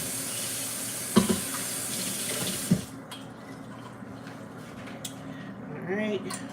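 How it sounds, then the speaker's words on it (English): A container is rinsed under a kitchen tap, running water splashing steadily with a couple of clunks, then the flow stops and quieter handling sounds follow. "So first, let me rinse this out."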